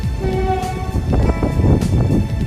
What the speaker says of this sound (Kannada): ಇಲ್ಲಿ ಟ್ರೈನ್ ಹೋಗ್ತಾ ಇದೆ ನೋಡಿ, ಕಾಣ್ತಾ ಇದೆನಾ?